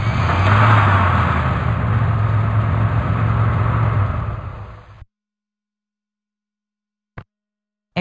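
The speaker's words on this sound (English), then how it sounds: "Truck." A truck engine drives by with a loud, steady low rumble and a thin high whine on top. It holds for about five seconds, then fades out quickly.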